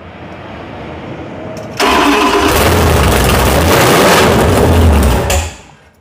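A homebuilt 512 cubic inch big block Mopar V8 cranks and fires up on a stand, roaring to a loud, steady rumbling run for several seconds before cutting off abruptly.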